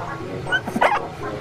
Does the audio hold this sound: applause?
no